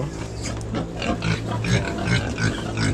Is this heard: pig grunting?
yes